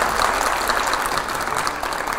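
Loud, dense applause from a large television studio audience, continuous clapping throughout with no voices standing out.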